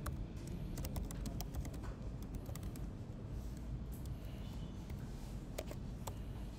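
Computer keyboard typing while basic HTML code is written, with rapid irregular key clicks over a steady low hum, close and moderately quiet throughout, no voices.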